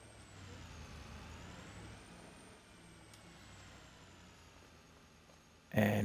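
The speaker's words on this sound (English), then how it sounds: "So we'll get our handy dandy truck." A farm truck in a farming video game idles with a steady low engine drone and a faint high whine, then ends in a loud, sharp hiss of air brakes.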